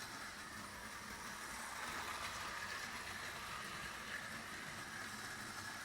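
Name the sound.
vintage reconditioned Marx toy train running on oval track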